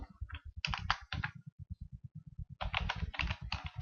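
Fast, irregular clicking of keys on a computer keyboard while a simple C program is typed, with bursts of close, crisp keystrokes and short pauses between words.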